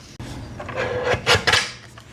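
Blade trimming a cutting template to square one side, a few short raspy scraping strokes, close and fairly loud, with no talk.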